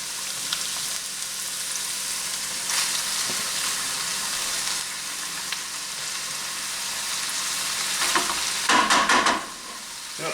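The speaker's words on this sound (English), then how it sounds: "we're just sauteing the beef with the onions and the peppers." Around 1.5 pounds of ground beef sautéing with onions and peppers for a taco casserole, a steady loud sizzle with occasional scrapes and a burst of stirring near the end.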